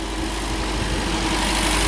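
An MGB GT engine, hot after about fifteen minutes running following a head gasket change, idles with a constant low rumble and broad mechanical whir, unbroken and close, with no voices.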